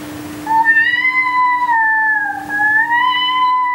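A human voice imitates a cat, with one long, wavering meow that rises, dips and rises again. It is close and clear, with a steady low hum underneath.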